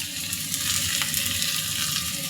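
Half a kilo of bitter gourd fries in a pan with salt, a loud, dense sizzle that runs unbroken and close with faint stirring scrapes.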